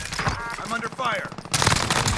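Rapid bursts of automatic gunfire crackle through a battlefield video game match with a helicopter overhead, dense and continuous, swelling louder in the final second.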